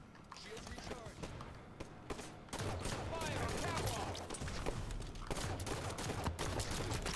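Gunfire in the Halo 5 video game rattles as a dense, fairly faint barrage that thickens partway through, mixed with game noise.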